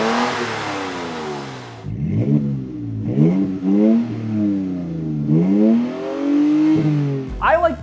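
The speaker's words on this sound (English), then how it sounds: "here's the MBRP Armor Black dual exhaust system with side exits. Check out how this system sounds." A 3.5L V6 Toyota Tacoma fitted with an MBRP Armor Black dual side-exit exhaust revving repeatedly, several sharp throttle blips rising and falling in pitch, loud and close with brief pauses between revs.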